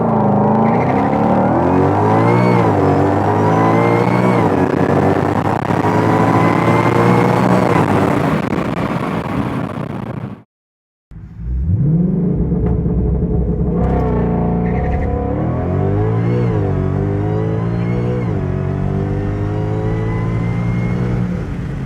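A 2020 Ford Shelby GT500 accelerates hard on a 0-60 run, its engine roaring loud and close through climbing revs, a sharp gap at a gearshift, then another long pull upward.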